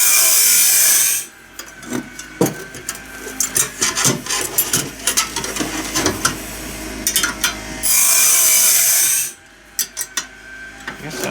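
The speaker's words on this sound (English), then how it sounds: "It takes a while to sharpen a blade again." A band saw blade sharpened on a band blade sharpener, two loud sustained grinding bursts separated by a stretch of scraping, clicks and ratcheting tool sounds, close up without talking.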